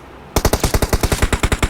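Rapid automatic gunfire from a PUBG battle royale match, around fourteen sharp, evenly spaced shots in a loud close burst that starts abruptly after a brief quiet lead-in.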